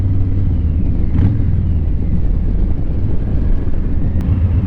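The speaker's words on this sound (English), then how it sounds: "right now I'm just feeling the wind hard. I'm not even going that fast. I'm going 35 miles an hour. I can feel the wind." Wind roaring loudly across the microphone while riding a Harley motorcycle at 35 mph, a constant heavy low rumble with no breaks.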